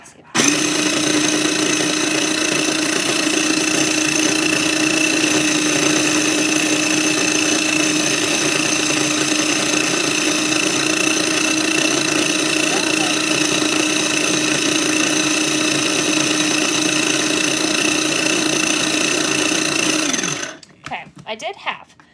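A food processor grinds basil and oil for pesto, a steady loud motor whine with a strong buzzing tone that runs for about twenty seconds, then cuts off abruptly with some clatter.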